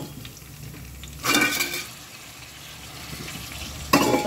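Onions cooking in a pan for fish curry, with stirring and clattering bursts from a utensil against the pan over a low, steady background, no voices.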